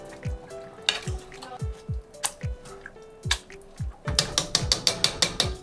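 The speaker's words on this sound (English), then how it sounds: "I'm going to use a potato masher just to mush it into more of a puree" A potato masher pressing soft cooked zucchini into a chunky puree in a pot, giving repeated squelching thumps and clicks at an uneven rhythm, close and moderately loud, with sharper rapid taps toward the end.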